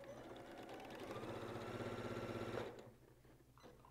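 A sewing machine stitches quilting fabric for a color-crossing block in a steady, close mechanical whir that runs for about two and a half seconds, then stops and leaves quiet room tone.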